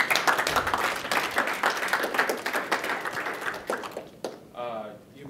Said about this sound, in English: A round of applause first, though, I think.